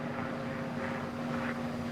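A propeller airplane in a sustained side slip, its engine droning as a steady, even hum with a constant tone, close and continuous with no voices.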